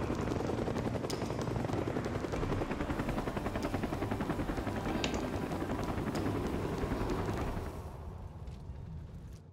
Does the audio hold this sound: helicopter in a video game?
yes